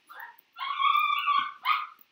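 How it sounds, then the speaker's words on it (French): Several dogs barking and yipping in short bursts close by, with a long sustained run of barks in the middle and a final sharp yelp, alone without talk. "Désolé, c'est mes chiens."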